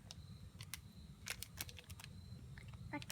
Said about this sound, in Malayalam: കത്രിക വെച്ചിട്ട്